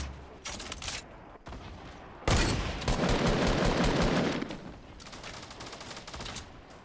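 Bursts of rapid gunfire in Fortnite, with scattered shots early, then a loud sustained volley before it thins back to sporadic firing.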